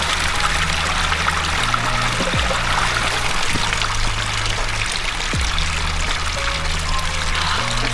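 Water from a stream on a Garibaldi Lake hike trickles and pours steadily and close, a continuous bright wash with low tones and a few faint knocks underneath.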